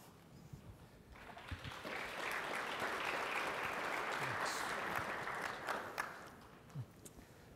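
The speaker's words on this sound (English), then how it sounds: "Thank you for that smattering of applause out there." Light, scattered applause from a small audience at an industry panel on gaming, cinema and place-based media, faint and distant, swelling for a few seconds and then thinning out to a few last claps.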